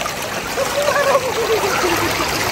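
River water splashes and trickles close by as gold is panned by hand in a river in Bulacan, a continuous gurgling wash with small irregular splashes.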